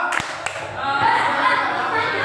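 A classroom of students claps in a few sharp hand claps near the start, followed by a steady murmur of voices and light laughter in the room.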